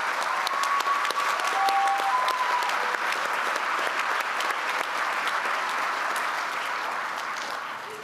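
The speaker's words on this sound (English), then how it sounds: "Let's give a round of applause to all of those who've helped our graduates reach this" A crowd at a community college commencement gives steady, sustained applause for several seconds that tapers off slightly at the end, with faint crowd murmur underneath.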